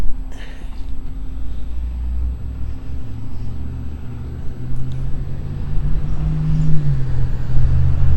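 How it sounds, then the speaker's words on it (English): A classic Cadillac drives past on an old downtown street in Texarkana, its low engine rumble building steadily and growing louder toward the end, with no one talking. "quite the Cadillac right there."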